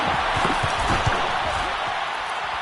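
A loud home-stadium crowd roars steadily in the Madden football video game, a dense wash of noise with scattered thumps and claps mixed in.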